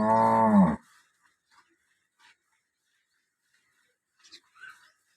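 A cow gives one loud, close moo lasting under a second, followed by near silence with a few faint, scattered background sounds.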